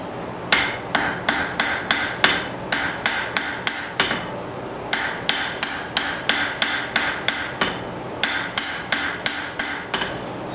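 A hammer strikes mild steel while forging banister hooks on an anvil, sharp ringing blows in steady bursts of five to seven with short pauses between sets, loud and close, no voices.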